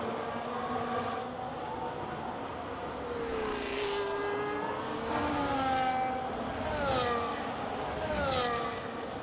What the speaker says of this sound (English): So Zen trying to keep the car nice and orientated and in control